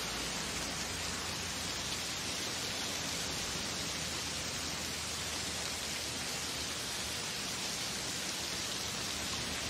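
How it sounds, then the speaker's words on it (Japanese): Heavy rain pours down in a steady, dense hiss that never lets up, even and unbroken throughout. "雨ね。"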